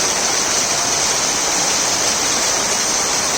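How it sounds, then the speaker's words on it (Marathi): Torrential rain pours down over a farm field embankment in a steady, dense hiss that stays loud and unbroken from start to finish, with no voices. "मित्रांनो पुन्हा एकदा तुफान पाऊस चालू झालो हा बघू शकता तुम्ही"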